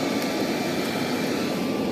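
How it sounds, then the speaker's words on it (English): A regular hair dryer set on low blows air into a brick-and-cement knife forge, a steady close whooshing roar with no breaks. "I just got a regular old hair dryer on low in there now."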